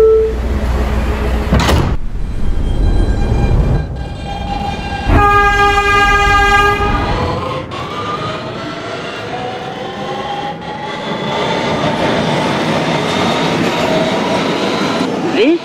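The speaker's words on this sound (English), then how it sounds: "This is a Coney Island bound N train." A Roblox-simulated R160B Siemens subway train on the BMT Broadway Line: a loud horn blast, then the rising whine of traction motors accelerating with steady rumble and rail clatter, close and continuous.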